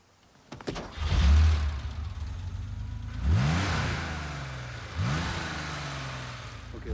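A car engine in a film scene reenacting James Dean's fatal crash roars up and then surges twice more in rising revs, loud and close, with a rough rumbling underneath.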